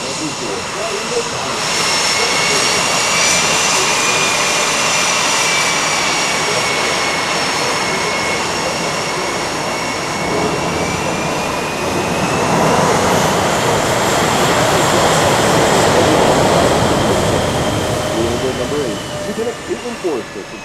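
US Navy Blue Angels jets roar overhead at the Thunder Over Dover air show, a loud sustained engine rumble that swells as they pass, with an announcer talking over the noise.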